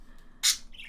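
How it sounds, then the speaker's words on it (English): A pet bird named Chip gives one sharp, bright chirp followed by a softer, shorter call, heard at moderate distance in an otherwise quiet room. "sorry if you can hear bird noises"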